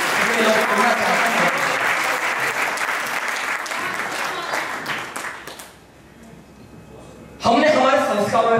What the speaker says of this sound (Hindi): अपनी तालियों के माध्यम से मुझे बता दें कि लोग पढ़ना चाहते हैं।